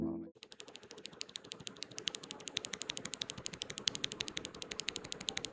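Fast, steady typing on a Weikav WK75 75% mechanical keyboard with white-stem switches, a dense run of crisp, close clicky-thocky keystrokes with no talk over them.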